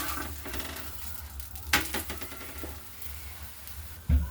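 Jowar and methi flatbread (dhapate) cooking on a hot griddle, flipped over: soft sizzling with a sharp scrape or clatter partway through and a thump near the end, close and steady, no talking.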